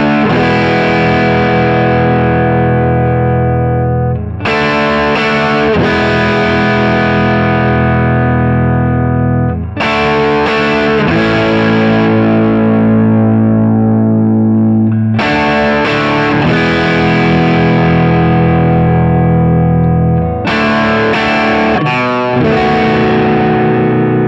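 A loud, distorted electric guitar plays a power chord riff through an amp with a deliberately torn speaker: thick, buzzy sustained chords changing roughly every five seconds with brief restrikes, dense and continuous, with no voices.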